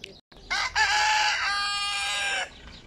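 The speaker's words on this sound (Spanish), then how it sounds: "sí que hace ruido el gallo, ¿eh?" Rooster crowing close by at a place where chickens are being bought, one long drawn-out crow with a harsh, strained quality, preceded by brief clucking.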